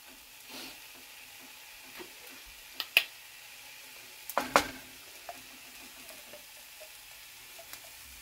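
Shallots and mushrooms frying gently in a pan, with a low steady sizzle and a few sharp clicks of a utensil against the pan, close and quiet, with no talk.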